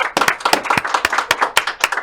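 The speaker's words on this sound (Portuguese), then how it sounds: "Senhoras e senhores, só de palmas para Érico Rocha!" A small audience on a podcast set claps for Érico Rocha, distinct individual hand claps in an uneven quick rhythm, close and moderately loud for about two seconds.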